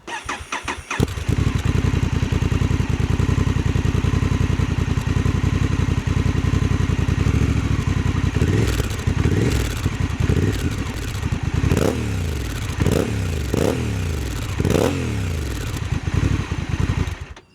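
A Honda Africa Twin 1100 DCT motorcycle fitted with an SC Project titanium silencer starts and idles loudly up close, then gets several sharp revs that rise and fall in quick succession.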